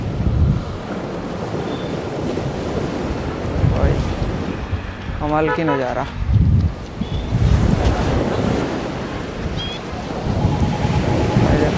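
Night surf at Daman rolls and rushes continuously under gusty wind noise on the microphone, while someone speaks briefly in the middle and faint distant tones drift through.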